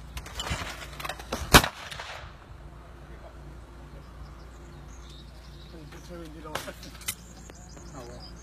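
A shotgun fires once during clay pigeon shooting outdoors, a single sharp loud blast with a short tail, followed later by a couple of fainter pops, with people talking around it.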